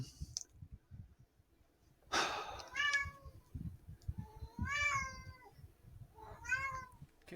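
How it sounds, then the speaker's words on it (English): A house cat meowing close by, several drawn-out rising and falling cries separated by short pauses, over soft breathing and low background rustle, with no talk. "I got 3 cats in here, bro."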